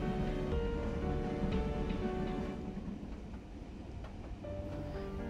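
KRL commuter train running on rails between Tanjung Barat and Pasar Minggu in Jakarta, producing a continuous close rumble with a faint rhythmic clatter and a slight drop in level midway.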